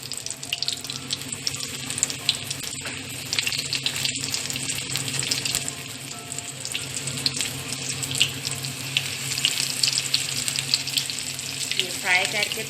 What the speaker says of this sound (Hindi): तो अब मैं इसमें अपने पीस जो चिकन के मैंने मैरिनेट करके रखे हुए थे अच्छी तरीके से कोट करके, वो मैं अभी इसमें ऐड कर रही हूँ